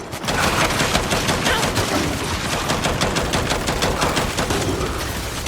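Rapid turret fire in Gears 5, a loud, unbroken stream of fast automatic shots hammering close by for the whole stretch.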